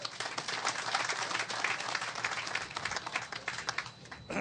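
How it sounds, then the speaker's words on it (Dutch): Audience applause at a speech in Nickerie, a full room clapping steadily with a rolling, uneven texture, moderately quiet throughout and no talk over it. "U mag uzelf een applaus geven."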